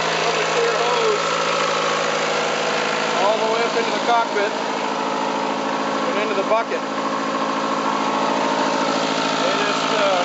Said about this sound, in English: just run the engine long enough to burn off any startup condensation and really get her good and warm